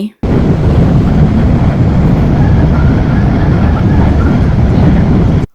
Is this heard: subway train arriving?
yes